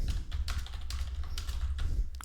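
Typing on a computer keyboard while creating an API key, a quick run of light key taps spread across the moment, close and fairly quiet, with no talking.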